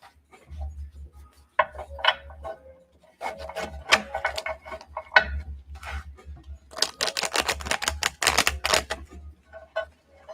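Tarot cards being shuffled during a live reading, in bursts of papery riffling and flicking with brief pauses between, close and fairly loud, no talk.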